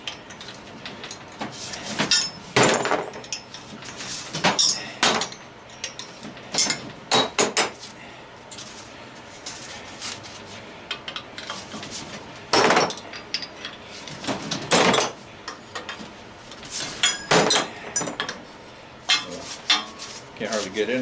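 Scrap copper tubing is cut apart with metal snapping, clanking and clinking in irregular close bursts separated by short pauses, and someone talks now and then between cuts.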